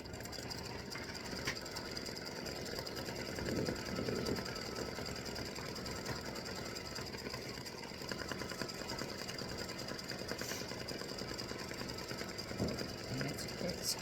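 An embroidery machine works orange thread into the feet of a Halloween spider design, giving a continuous, fairly faint mechanical chatter that holds steady from start to finish.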